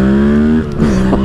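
A Honda CB750 Hornet motorcycle engine runs with a steady, loud revving drone that dips briefly and then rises again, close up.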